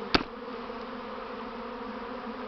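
Honeybees hum around a hive during a first swarm season, a low continuous drone that starts with one brief sharp knock.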